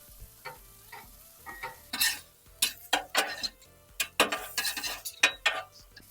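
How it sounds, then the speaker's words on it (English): Sausages flash-searing on a Blackstone griddle crackle and sizzle softly beneath repeated metallic scrapes and clinks of a spatula, the strokes coming in uneven bursts up close. "I'm just gonna kind of get a little flash sear on these sausage."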